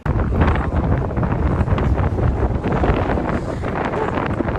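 Strong wind buffets the microphone in a constant, heavy roar that never lets up, with no voices heard, outdoors at the Niagara Power Vista.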